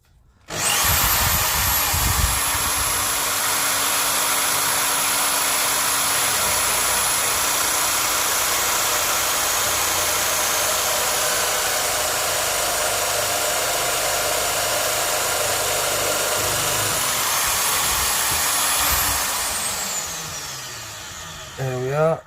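A drill bores through a G10 and aluminium slingshot blank, a steady, loud whining grind that holds for about eighteen seconds before spinning down, with a brief rattle at the end.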